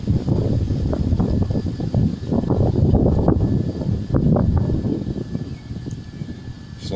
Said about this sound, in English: the wind is really kicking up now